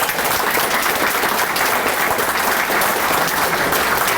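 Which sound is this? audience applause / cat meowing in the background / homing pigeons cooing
audience applause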